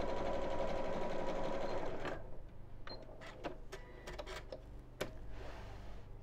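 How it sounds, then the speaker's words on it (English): A sewing machine runs steadily as it stitches an oven mitt's opening closed, then stops. Scattered clicks and taps of handling the fabric follow, close and moderately quiet. "So I'm going to sew the opening closed now."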